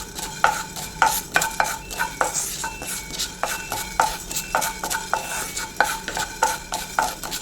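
Fenugreek seeds roasting dry in a pan are stirred with a rhythmic series of sharp spoon-on-metal scrapes and clicks, roughly two per second, over a faint sizzle.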